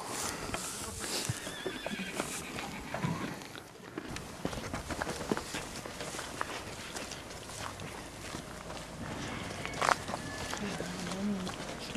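Horse at an animal rescue farm whinnies and its hooves clip-clop nearby, with people talking over the busy outdoor scene.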